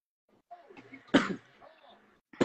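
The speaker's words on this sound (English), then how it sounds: "I don't know how you're going nowhere coughing all over the fucking place." A person coughs once sharply in a restaurant, a short harsh burst after a little quiet voicing, followed by another brief sound near the end; close and fairly loud against near silence.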